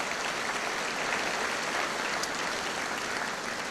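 Sustained, dense audience applause fills a high school commencement ceremony in 1999 as a family member is honored, steady and even from start to finish with no voices over it.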